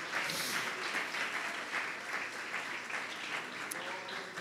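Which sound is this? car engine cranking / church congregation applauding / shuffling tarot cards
church congregation applauding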